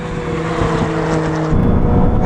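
A Ferrari 296 GTB hybrid accelerates hard in a drag race: a loud, steady engine roar close by that rises in pitch, then shifts as a gear change comes partway through.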